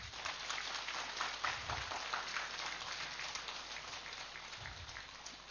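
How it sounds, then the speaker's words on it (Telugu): Steady, soft applause from an audience at a Buddha Purnima meditation gathering, a thin continuous patter of many hands heard from a distance, with a few low thumps and a gradual fade toward the end. "అందరూ క్లాప్ చేయాలి."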